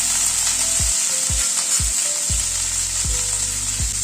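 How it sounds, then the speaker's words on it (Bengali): Potatoes and beans fry in oil with a loud, constant sizzle, broken by a series of regular low thumps from stirring roughly every half second. "আলু বিনসটাকে একটুখানি ভেজে নিচ্ছি আগে"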